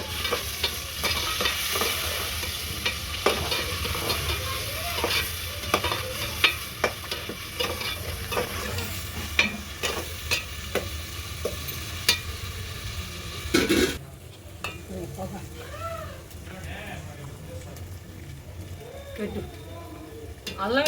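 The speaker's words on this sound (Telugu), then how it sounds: "పచ్చిమిరపకాయ పేస్ట్ వేగింది ఉల్లిపాయ పేస్ట్ కూడా వేగింది" Onion paste with ginger-garlic and green chilli paste sizzles in oil on a wood-fired stove while a spoon scrapes and stirs the pan in repeated strokes; the sizzle drops sharply partway through and continues more quietly.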